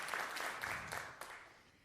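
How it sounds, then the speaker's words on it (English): Scattered clapping from a small audience in the Reeves Theater, a brief burst of hand claps that swells and fades over a couple of seconds, fairly faint and heard from a distance with no one speaking. "Give me a clap if so"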